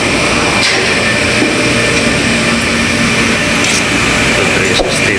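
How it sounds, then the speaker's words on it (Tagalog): A locomotive rumbles through a subway tunnel under construction, a steady, loud, reverberant drone with faint clanks and no voices. "Ito dumadaan yung locomotive."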